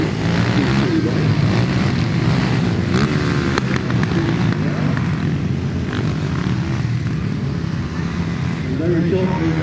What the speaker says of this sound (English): here come the senior riders on their 250 cc race.